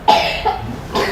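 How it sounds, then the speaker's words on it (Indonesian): A small child coughs close by, two or three short raspy bursts in quick succession during an indoor religious lecture. "Lucu anak kecil kalau batuk ya."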